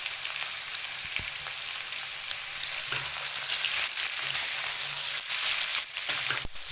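Potatoes fry in a karahi for a yogurt potato dish, a dense, close hiss of oil that swells louder midway, broken by a few sharp knocks of a spoon against the pan, with no voices.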